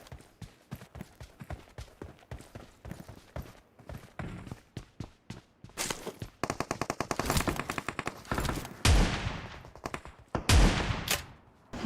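Bursts of rapid gunfire in PUBG Mobile crackle in short volleys, growing louder and denser toward the end, with occasional heavier booms and faint footsteps between.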